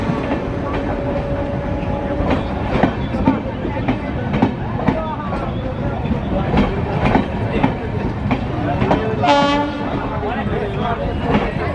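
An Amrit Bharat Express pulls into platform 2 at New Farakka station with a steady rumble and rhythmic wheel clatter. A loud horn blast sounds near the end, with faint voices in the background.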